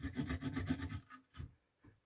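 A saw cuts a piece of wood in half in a workshop, with a second of rhythmic rasping strokes followed by a few fainter scrapes.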